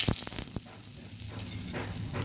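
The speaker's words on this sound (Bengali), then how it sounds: "মাছ ভাজার কড়াইটার মধ্যেই আর একটু তেল দিয়ে দিয়ে দিচ্ছি তেজপাতা" Bay leaves sizzle in hot oil in a fish-frying pan, a steady close crackle with a few sharp pops near the start and a brief louder burst at the end.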